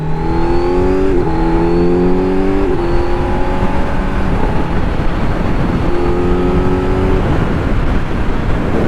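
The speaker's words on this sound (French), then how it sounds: "il étouffe un petit peu plus quand même hein, le bruit du moteur" A 2025 Kawasaki Z900 SE motorcycle engine, still being broken in, revs and accelerates loudly and close up, pitch climbing through several gear changes with brief drops between them, over steady wind rush.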